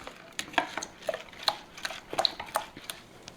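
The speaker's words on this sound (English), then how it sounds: "And we're going to mix all this together." A spoon scrapes and clinks against a bowl while water and Uncle Ben's wild rice are stirred together, a close run of irregular metallic taps and knocks with no voices.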